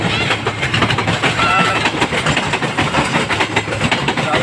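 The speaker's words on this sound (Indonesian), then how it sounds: "Ini kereta api langsung." A passenger train rolls past at close range, a loud, steady rumble with rhythmic clickety-clack from the wheels and a sustained engine drone throughout.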